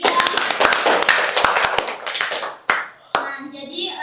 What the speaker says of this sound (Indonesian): Berikan aplaus dulu untuk kelompok 3